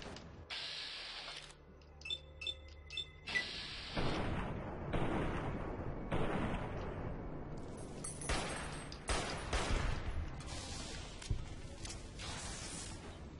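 Gunfire and explosive blasts from a sniper-rifle firefight in the video game Fallout New Vegas, with sharp repeated shots and heavy booming bursts over mechanical clanks, loud and dense throughout.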